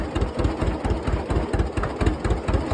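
A John Deere diesel tractor engine, weak on compression in one cylinder, idles close up with an uneven, thumping beat that lopes in a rhythmic chug throughout.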